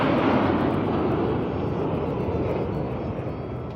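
Indian Air Force aircraft make a fly-past at the 77th Republic Day parade, a loud, continuous broad engine roar that fades only slightly as it passes overhead.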